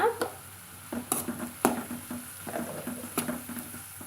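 Cumin seeds and turmeric powder being sautéed in a pan for an aloo paratha filling: a spoon scrapes and clinks against the metal in irregular strokes over a soft, steady sizzle, close by with no talk.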